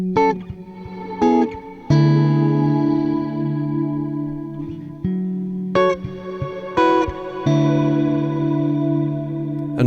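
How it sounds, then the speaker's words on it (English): Reverse reverb effect from a reverb plugin processing a sustained synth or keyboard chord sequence, with swelling washes rising into each new chord, loud and close, no voices. "what we're hearing here is a reverse reverb effect"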